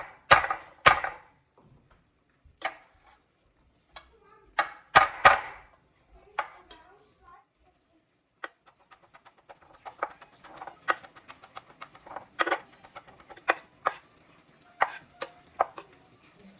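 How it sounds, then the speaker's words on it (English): Garlic is struck and crushed with the flat of a knife blade on a board, first a handful of loud separate thumps, then a quicker run of lighter knocks and taps close by. "When you hit garlic, hit it with the flat edge of the blade and away from you."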